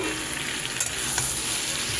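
Chopped tomato tipped into a pan of frying prawns and pointed gourd (potol), with a steady close sizzle and scraping stir strokes throughout, no voices.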